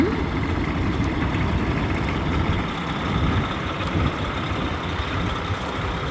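A parked vehicle's engine idles nearby with a steady, loud low rumble that runs continuously without letup, with no talk over it.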